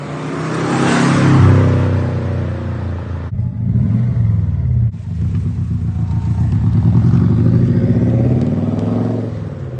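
A twin-turbo car engine runs loud and close, rumbling at idle and then revving up and holding high, with a brief dip in the middle and a steady throaty drone, no talking.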